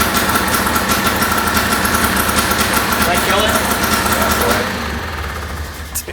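A Honda ATV engine idles indoors with a steady rough rattling putter, loud and close, then the revs drop toward the end; people talk over it.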